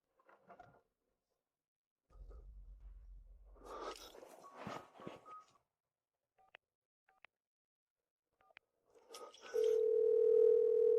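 A telephone call to a powered-off number: soft footsteps and rustling precede a few faint DTMF beeps, then a steady, loud dial-type tone holds alone at the end.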